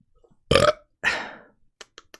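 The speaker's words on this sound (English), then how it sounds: "There's no positives, just a burp." Burp sound effect from the video game Five Nights at Freddy's Help Wanted 2: two loud close belches in quick succession, the second longer and fading, followed by a few faint clicks.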